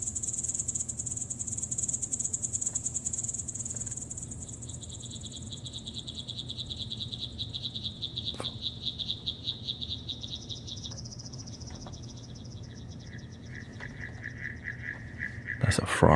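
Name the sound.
frogs or toads croaking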